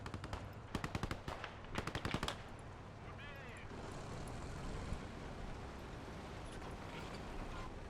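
Bursts of MG42 machine gun fire in a Stalingrad combat game, several rapid rattling volleys close by in the first couple of seconds, followed by a rumbling battlefield din.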